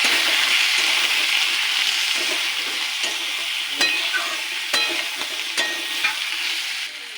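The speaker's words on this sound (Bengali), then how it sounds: "লবণ দেব জিরের গুঁড়ি দেবো হলুদ গুঁড়ি দেবো লঙ্কার গুঁড়ি এটাকে ভালো করে কষিয়ে নেব" Broad beans and potatoes sautéing in a pan with salt, cumin, turmeric and chili powder, a steady close sizzle punctuated by several sharp stirring scrapes that fade slightly toward the end.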